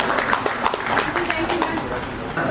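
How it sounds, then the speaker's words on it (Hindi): An audience at a teachers' award ceremony applauds an honoured teacher. Scattered claps patter steadily underneath a voice speaking over them. "जोरदार तालियां बसंती मैम"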